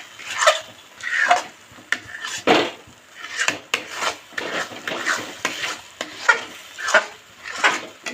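Karachi halwa with almond pieces stirred in a pan over a low flame: rhythmic, close scraping strokes about once a second, each a dry rasping sweep against the pan with a faint sticky sizzle.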